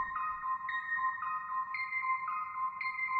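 Bright, plucky synth notes from an isolated stem of a song pop in a bouncy repeating pattern, each short blip ringing out clean and close, with no voices.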